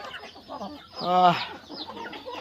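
A single hen's cluck rises briefly in the middle, over a low murmur of other chickens feeding in a poultry shed and faint background activity.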